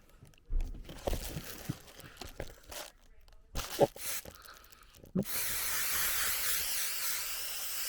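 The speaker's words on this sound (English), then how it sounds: "I'm just spraying it onto the tank, onto both surfaces, and then gluing it down." High-temperature spray adhesive hisses steadily onto a van's underslung water tank from about five seconds in, after scattered handling knocks and rustles; the spray is close and fairly loud.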